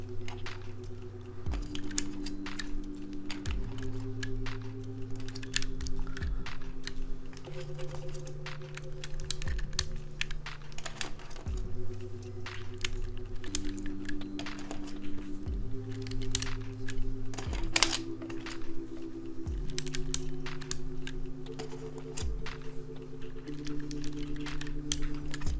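Typing on a Vertex Angle keyboard with some keycaps missing: a dense, continuous run of close clicks and clacks over a low hum, going on steadily throughout.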